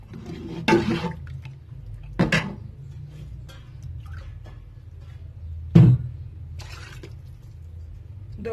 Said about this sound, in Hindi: 2 कप पानी मैंने डाल दी।